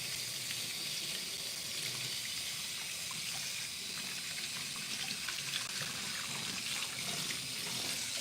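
Very hot water pours from a tap into a kitchen sink in a continuous, hissing, broadband rush, heard alone at moderate level throughout.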